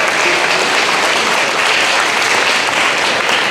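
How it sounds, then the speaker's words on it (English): Loud, steady applause from a large audience at a high school football banquet, dense clapping filling the room without a break. "let's give them a round of applause for that as well"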